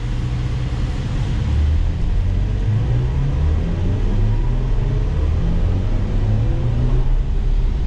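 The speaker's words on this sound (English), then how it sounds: "Watch how fast this accelerates." A BMW i4 M50 electric car accelerating hard on the road, heard from inside as a steady, loud low rumble of road and wind noise that holds throughout, with no voices.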